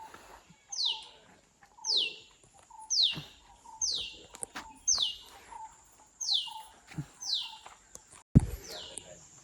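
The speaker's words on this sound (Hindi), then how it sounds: "आवाज़ सुन रहे हो गाइज? Morning birds." Morning birds in a slow coastal village in Ratnagiri, Konkan, chirp in a steady repeating pattern of bright descending calls about once a second, with a soft lower note under each and a thump near the end.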